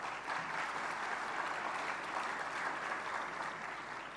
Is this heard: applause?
yes